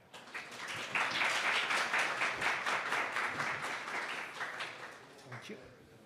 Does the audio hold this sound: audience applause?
yes